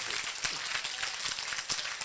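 A church congregation applauds and cheers, a dense steady patter of clapping filling the whole short stretch at moderate level.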